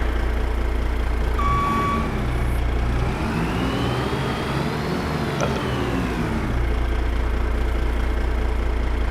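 A truck in a farming video game backs up with a steady series of high reversing beeps over a low idling engine hum that swells briefly midway, then settles.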